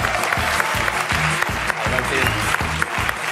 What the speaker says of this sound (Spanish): por favor, fortísimo aplauso para Bertil van Beek.